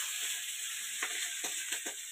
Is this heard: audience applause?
no